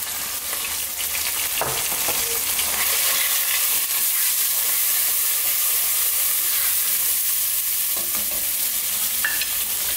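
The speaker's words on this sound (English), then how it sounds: "So in goes our cumin powder, our turmeric, our chili, and the curry leaf dried powder." Ground cumin, turmeric, chili and dried curry leaf powder sizzle and hiss steadily in hot oil in a pan for a potato egg curry. The frying stays even throughout, with a few light stirring scrapes.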